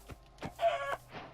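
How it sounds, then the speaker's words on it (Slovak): A chicken in the Minecraft video game clucks, giving a short, close burst of a few quick clucks with no talking. "Sorry kura, musím ťa zabiť, potrebujem jedlo."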